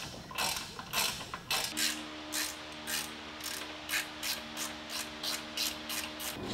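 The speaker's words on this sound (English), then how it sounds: "Just getting that last bolt on these fork clamps off." A ratchet wrench loosens the bolts on a minibike's front fork clamps during a Rascal front suspension upgrade, giving a close, rapid clicking in repeated bursts of strokes with no speech.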